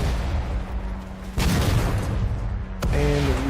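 Mortar fire in the World War II strategy game Sudden Strike 4: a steady low engine-like drone carries through, broken by two sharp booming impacts with crackling tails, followed by a short tonal game cue.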